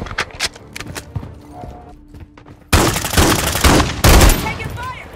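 Bursts of SVA-545 assault rifle fire in a Call of Duty MW3 Team Deathmatch match on the Invasion map, loud and close, in several sharp volleys after a quieter stretch, with faint talk in the background.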